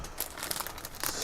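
Small plastic packaging bags holding model railway trees for OO/HO gauge crinkle and rustle continuously up close for about a second, with sharper crackles among the softer rustling.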